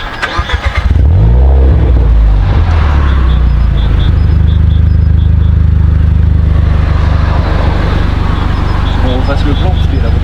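A car drives past close by with a loud, steady engine roar that swells in for several seconds, while people talk over it.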